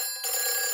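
A telephone rings in a French Peppa Pig cartoon, a sudden bright electronic ring that starts after a brief pause and carries on steadily and loud.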